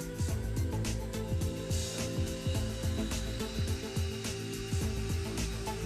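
A rubber cup polishing tool whirs against teeth during dental cleaning with toothpaste, a close, steady motorized buzz with a repeating rhythmic pulse throughout.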